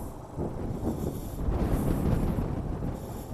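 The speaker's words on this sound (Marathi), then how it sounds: "वारा सॉलिड आहे" Strong wind buffets the microphone at an open hilltop viewpoint during a pilgrimage trip in Maharashtra. The roar is steady and moderately loud, with gusts swelling midway, and no one speaks.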